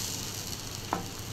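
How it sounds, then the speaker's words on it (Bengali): Potatoes frying in a pan give off a steady close sizzle and hiss, with a single brief scrape of stirring partway through. "নাড়াচাড়া করে ভাজতে হবে"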